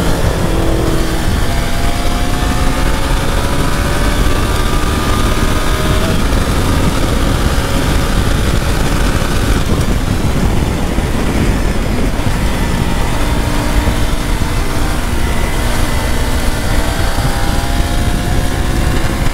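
A new motorcycle's engine runs steadily and loudly for the whole stretch, a dense mechanical drone with shifting harmonic tones as the revs rise and fall, like a bike cruising nearby with no voices.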